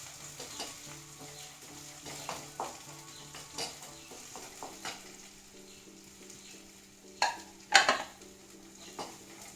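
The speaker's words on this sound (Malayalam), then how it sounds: "സവാളയുടെ ഒപ്പം തന്നെ നമുക്ക് പച്ചമുളക് ഇട്ട് കൊടുക്കാം. അതിൻ്റെ ഒപ്പം തന്നെ ഇഞ്ചി ഇതും കൂടി ഒന്നിച്ച് കിടന്നിട്ടാവട്ടെ." Onion, green chili and ginger frying in a pan, a quiet steady sizzle broken by scattered spoon scrapes and stirring clanks, with two sharper metallic knocks near the end and no talk.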